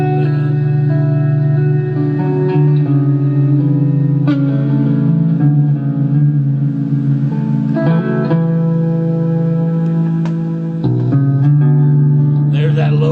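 Electric guitar played through a pair of Orange Crush 20 LDX mini amps, loud and sustained, with ringing low notes and chords layered with reverb and echo, holding steady with a few brief changes.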